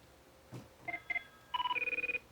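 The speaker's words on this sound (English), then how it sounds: "I hear a phone ringing." A telephone rings in short electronic bursts: a couple of brief tones, then a quick rapid series of pulsing rings, fairly faint and alone with no talk over it.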